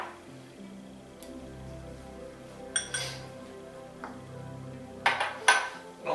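Dishes clink against each other as chopped food for a Thai chicken wrap is set aside in a bowl in a home kitchen, with a few sharp ceramic knocks in short clusters over a quiet background.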